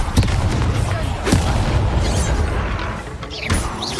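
A fire spell bursts in a wizarding action game: a loud, close whooshing blast with crackling impacts in the midst of chaotic battle noise, with a spoken voice over it.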